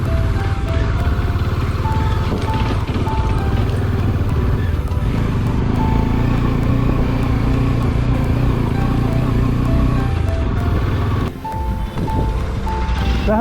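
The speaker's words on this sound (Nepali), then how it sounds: "म चाहिँ मिस्टल सोल्टीको बाइक चलाएर है अब" A motorcycle engine drones loudly and steadily up close, with high beeping tones sounding on and off over the running motor.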